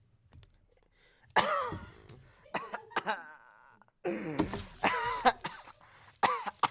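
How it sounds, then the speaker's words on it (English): Several sharp coughs and throat clearings come in bursts, some close together, separated by brief quiet pauses. "It's a cough."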